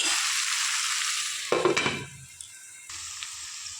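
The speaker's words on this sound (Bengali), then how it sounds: "এবার এটাকে ভালো করে নেড়ে চেড়ে নেব, নিয়ে ঢাকা দিয়ে ভেজে একটু নরম করে নেব।" Pointed gourd peels and onion sizzle in a pan while being stirred, a steady close frying hiss broken by a brief burst of scraping and stirring before the sizzle settles back.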